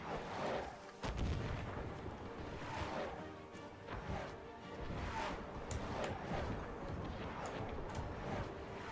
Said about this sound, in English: Artillery is ready for action.